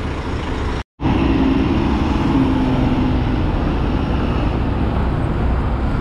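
Road traffic at the Rio de Janeiro bus station, a steady loud rumble of vehicle engines idling and moving near the platforms, with one brief dropout.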